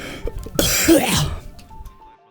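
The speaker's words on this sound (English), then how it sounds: "Well, I have to cough really quick." A single harsh cough with some throat clearing, close and loud, fading into quiet afterward.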